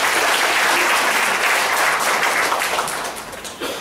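A church congregation at a Sunday evening service breaks into loud, dense applause that stays full and even before easing slightly toward the end.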